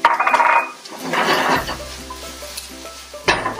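Garlic and chili stir-frying in hot oil in a pan for a prawn omelette, bursts of sizzling with stirring scrapes near the start, middle and end, a low steady hiss between.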